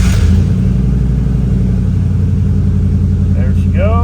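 A 1998 Chevrolet K2500 pickup truck engine runs loud and close, a dense steady rumble with a sharp burst at the start, and a voice briefly speaks over it near the end.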